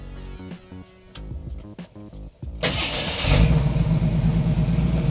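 A 1987 Jeep engine cranks briefly with intermittent clicks, then fires and settles into a loud, steady high idle that runs to the end.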